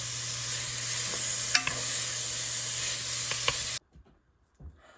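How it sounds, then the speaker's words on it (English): Bacon sizzles and crackles steadily in a pan with a few sharp pops, then cuts off abruptly into near silence with faint shuffling. "now as our bacon is frying"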